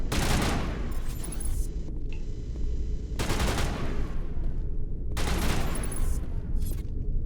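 Gunfire in the Mass Effect game: two clear bursts of rapid automatic shots, each lasting about a second and a half, separated by quieter gaps.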